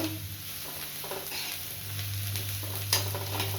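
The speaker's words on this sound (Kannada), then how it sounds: "ಇದೆಲ್ಲ ಚೆನ್ನಾಗಿ ಎಣ್ಣೆ ಒಳಗೆ ಫ್ರೈ ಆಗಬೇಕು" Vegetables fry in oil in a pan for masala upma, a soft continuous sizzle with light stirring scrapes and a steady hum beneath, fairly quiet and without talk.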